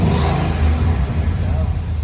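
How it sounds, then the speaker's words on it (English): A Ford Mustang with a custom exhaust setup revs, a deep, loud rumbling engine roar with low pulsing exhaust tone held through the brief moment. "let's get back to that and see how the Mustang sounds."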